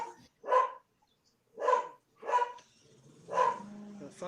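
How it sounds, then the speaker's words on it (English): Dogs bark in short bursts, four separate barks spaced about a second apart, fairly close and loud, with quiet gaps between and a faint low hum under the last one. "I just hear the dogs."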